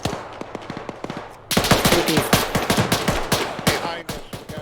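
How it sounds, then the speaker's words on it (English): Bursts of gunfire crackle during an airsoft-style operation, rapid shots snapping in quick irregular volleys, some sharp and close, others fainter, growing denser midway through. "We got shots coming in from behind us."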